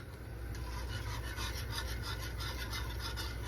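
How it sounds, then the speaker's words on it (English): Steady, fast whisking of cold milk in a pot as it slowly thickens, a close, continuous scraping rasp with an even rhythm and no pauses. "It'll take a little while because the milk is cold for it to get thick, but you just keep whisking."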